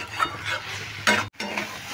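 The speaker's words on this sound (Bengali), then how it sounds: "খুব ভালো করে এর সঙ্গে মিশিয়ে নিতে হবে মশলাটাকে।" Spices and a little water stirred in a kadai, a wok-style pan, scraping and sizzling in short strokes with a brief metallic knock, close up and fairly quiet.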